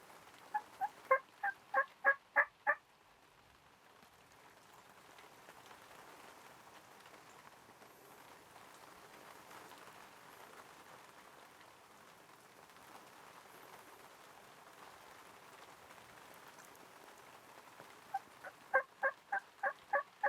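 Wild turkey jakes gobble in two distant rattling bursts at the start and end, a steady soft hiss of outdoor ambience between them.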